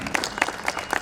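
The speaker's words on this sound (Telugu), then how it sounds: "దానికి ఒక్కసారి క్లాప్స్" Quick, uneven claps from a group applauding at a school success meet, heard up close in a brief burst.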